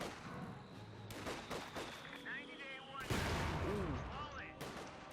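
A 2 cm flak half-track fires in the video game Company of Heroes 2, sending bursts of rapid cannon fire amid a dense wash of battle noise, explosions and chirping effects, with a loud blast near the end.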